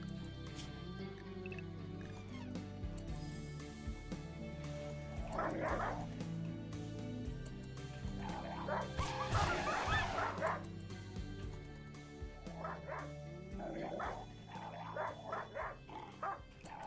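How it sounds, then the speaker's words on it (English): Dogs outdoors bark and yip in bursts, with whimpering and whining between, fairly close and continuous under a steady background hum, with faint voices now and then. "Dogs are still here."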